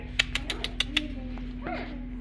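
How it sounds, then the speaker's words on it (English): Cooing call from a dove-like bird at a drive-through safari park, a short soft coo following a run of sharp clicks, with people chatting nearby over a steady low hum. "Pretty bird."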